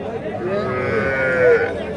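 Young bull calves moo at a village cattle market, a drawn-out low bellow rising and falling over about two seconds, close and fairly loud above faint crowd murmur.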